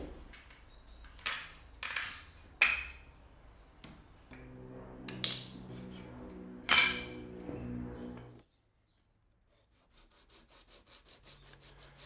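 Wooden pieces of a homemade mic boom arm being sanded by hand, with repeated rasping strokes in uneven bursts, fairly close and quiet, before a pause and a softer rhythmic scrubbing.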